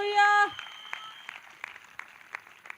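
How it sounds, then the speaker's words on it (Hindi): Church congregation at a Sunday service clapping in thanks, a sparse scattering of individual claps at uneven intervals after a sustained musical tone cuts off, fairly quiet and roomy. "जितनों को ये बात समझ में आ गई है वो ताली बजाकर धन्यवाद कर रहे हैं।"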